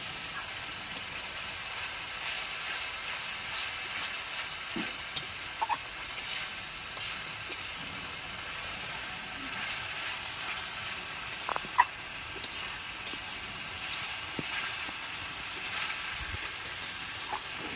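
Water poured into frying spices in a pan for spicy red potato curry (alur dom), giving a steady broad steaming hiss with scattered small pops and clicks, close and continuous, no talking.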